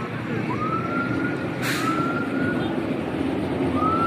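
A police siren wails in long rising and falling tones through steady traffic noise, with a sharp burst of hiss in the middle.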